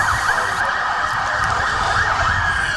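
Several emergency vehicle sirens wail steadily in the distance during a Newcastle and Hunter Super League final, a continuous rising-and-falling tone that holds for the whole stretch without any talk.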